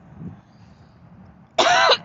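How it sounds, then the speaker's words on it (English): After a quiet stretch, a sudden loud cough bursts out close by, followed quickly by the start of another. "excuse me, just as I cough,"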